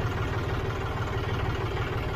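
A tractor engine, John Deere 5039 or Kubota 4501, runs steadily at a low, even idle with a regular throbbing pulse and light mechanical clatter, close and fairly loud with no talking.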